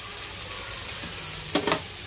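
A chicken and shredded boiled egg filling cooks in a pan with a soft, steady sizzle, then a brief clatter of stirring near the end.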